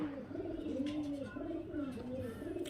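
Kalshira and highflyer Giribaz pigeons coo close by in a soft, rolling rhythm, several rounded calls following one another over faint background noise.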